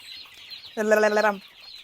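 Hens clucking close by on a chicken and duck farm, a short burst of harsh, throaty calls rising over a quiet background.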